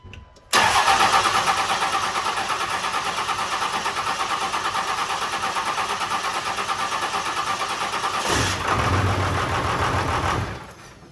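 A 24-volt diesel engine cranks and catches, a loud rhythmic churning that runs steadily for several seconds, surges briefly near the end, then cuts off, close and alone with no voices.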